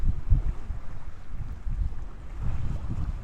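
Steady gusts of wind rumble and buffet the microphone beside the River Humber, a low roaring rush that rises and falls continuously with no voices.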